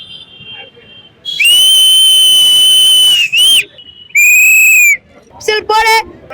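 A shrill whistle is blown loudly several times to cheer for Chennai Super Kings cricket: one long blast, then shorter toots, over faint background chatter.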